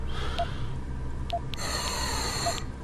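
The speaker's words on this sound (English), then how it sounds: "this breathing noise is going to get on my nerves" Heavy, labored breathing from the Deus Ex: Human Revolution video game, a steady loop of gasping inhales and snorting exhales repeating every second or so over a constant low game-ambience hum, with no talking.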